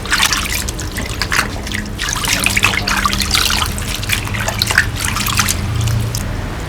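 Tap water running and splashing continuously while pickled mustard greens are washed by hand, a steady close trickle with small irregular splashes throughout.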